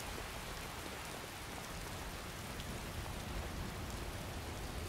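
Steady rainfall in Skyrim, a dense, even hiss of drops across the whole span with no pauses, moderately loud and alone without any voices.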